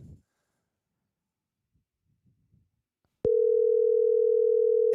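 A steady, loud telephone tone on an unanswered call comes in abruptly after a few seconds of near silence and holds unbroken to the end.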